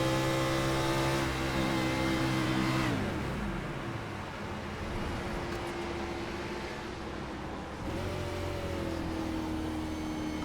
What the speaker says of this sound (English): We'll listen as he goes into 3 and 4. And we will see what exactly happened to him to let the engine go.